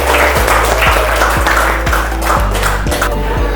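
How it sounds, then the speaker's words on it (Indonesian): Classroom audience applauding a student group after their presentation, steady dense clapping throughout, with rhythmic low thumps beneath. "Kita kasih aplaus dulu untuk kelompok 1."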